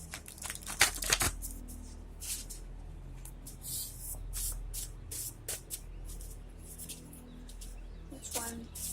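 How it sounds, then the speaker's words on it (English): A deck of index cards is shuffled by hand in a few quick riffling bursts, close and soft in a quiet room, followed by faint rustling and light handling. "I feel called to shuffle these cards before drawing one"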